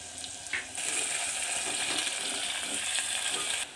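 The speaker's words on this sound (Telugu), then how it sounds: "పచ్చిమిరపకాయలు వేసుకుంటున్నాం" Green chillies hit hot oil with onions fried golden, a bright, dense sizzle that jumps in loudly after a brief clink and holds steady and close, then drops off sharply at the end.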